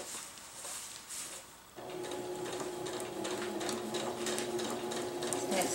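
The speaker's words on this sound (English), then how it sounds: "I'm just going to sew a straight seam there." A sewing machine stitches a straight seam through a tarp, its motor running as a steady, close hum with rapid needle chatter after a quieter start.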